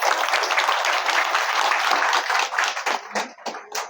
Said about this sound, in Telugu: అందరం కూడా చప్పట్లు కొట్టాలి